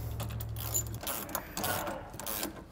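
Ratchet wrench tightening the mounting bolts of Westin PRO TRAXX oval nerf bars on a 2023 GMC Sierra, a run of quick, close mechanical clicks in short bursts with no talk.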